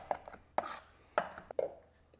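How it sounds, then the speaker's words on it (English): Herbs being chopped with a knife on a cutting board for Béarnaise sauce: four or five sharp, separate knife strikes at an uneven pace, close and fairly quiet, with no talking. "And then we'll just give it a nice chop."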